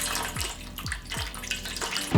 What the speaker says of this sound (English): So we're gonna start with some water.